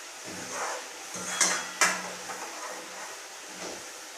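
Chicken masala frying in oil in a pan for chicken rassa, stirred with a spatula: close metallic clanks and scrapes over a soft sizzle.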